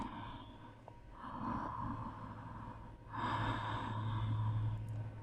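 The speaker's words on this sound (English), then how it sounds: "Taking deep breaths." Deep breathing during a challenging vinyasa yoga session, with two long swelling breaths that rise and fall at close range, alone with no talk.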